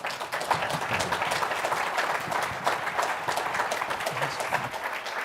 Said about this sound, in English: Round of applause for Larry